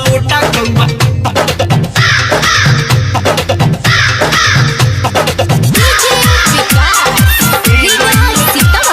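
Repeated crow caws ring out over loud, dense music in a Bol Bam devotional song, the sharp calls recurring in quick bursts throughout.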